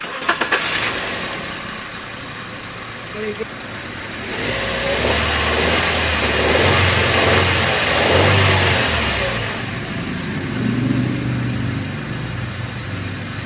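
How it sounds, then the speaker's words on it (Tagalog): A Toyota Avanza engine with a misfire cranks and catches, then idles and revs up and down in uneven surges before settling back to a rough idle, close by. "Pa-start ko na itong makina"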